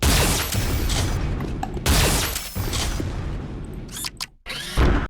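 Heavy booming blasts of Flak Cannon alternate fire in the video game Unreal, several loud bursts in a row with crackling debris, a brief gap near the end, then one more blast.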